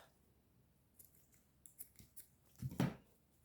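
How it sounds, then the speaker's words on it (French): Scissors snip through craft material such as jute or lace while making a Christmas decoration, a few faint clicks building to one loud close cut near the end, with no talking. "Je coupe."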